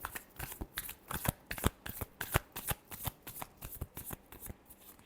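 Deck of tarot cards being shuffled by hand, a fast run of crisp riffling slaps and flutters in uneven rhythm, close and moderately quiet, with no talk.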